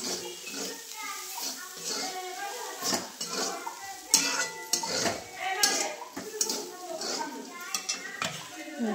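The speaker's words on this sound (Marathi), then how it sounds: "त्याच्यामध्ये आता शेंगदाण्याचे कूट टाकते." Coarse crushed peanut powder is stirred into a dry vegetable dish of bean pods in a pan, with clinking and scraping of a spoon against metal and a light sizzle under a woman's speech.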